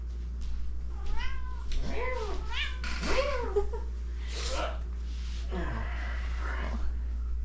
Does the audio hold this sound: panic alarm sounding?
no